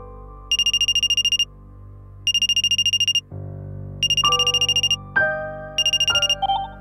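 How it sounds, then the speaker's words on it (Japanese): A telephone rings with a cartoon-style electronic ringtone, four bursts of rapid trilling separated by short gaps, loud and close over a soft musical background. "そんなある日、アンパンマンに電話がかかってきました。"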